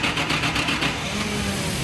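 A Nissan TB45 engine with a severe low-power fault cranks and runs, a steady close mechanical drone with a faint rapid pulsing in its upper range across the short stretch.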